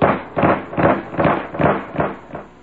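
A voice imitates a rubber stamp thumping down on a big yellow folder, with six or so loud, evenly spaced banging bursts close to the microphone.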